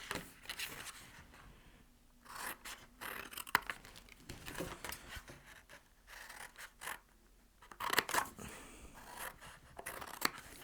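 Scissors cutting through wine box cardboard at close range, with a series of irregular crisp snips and crunching slices, some rustling of the board in between, and no talking.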